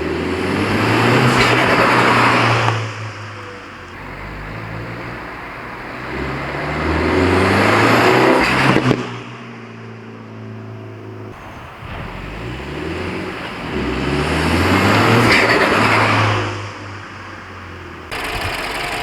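A Mini JCW fitted with an Airtec induction kit and pod filter accelerates hard in several loud runs, with rising engine tone, a bright turbo whoosh and sharp breaks between gear changes and lift-offs.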